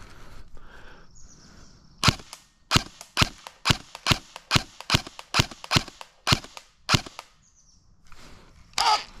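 A blowback airsoft gun fires about a dozen sharp, evenly spaced shots at a 50-foot target, each a crisp snapping crack, loud and close, followed by one last shot after a pause.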